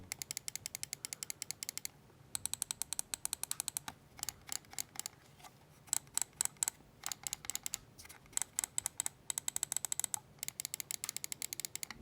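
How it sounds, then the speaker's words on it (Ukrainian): Crisp, stiff mouse button clicks from a Lorgar Jetter 357 gaming mouse with long post-travel, in quick bursts and single presses, close and distinct against a quiet background, with short gaps between runs. "Сам клік тугий і має доволі довгий пост-тревел."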